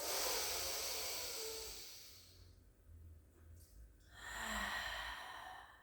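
A deep breath is let out through the mouth in a gentle pilates session, a soft airy exhale that trails off, followed after a pause by another breathy rush; quiet and close.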